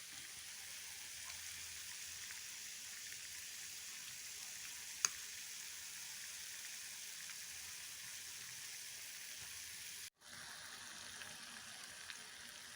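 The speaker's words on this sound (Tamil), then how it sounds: "நல்லா டீப் ஃப்ரை ஆகிட்டு காமிக்கிறேன்" Beef deep-frying in a pan for a Kerala-style roast gives off a steady, faint, rain-like sizzle that holds throughout, broken by a brief dropout near the end.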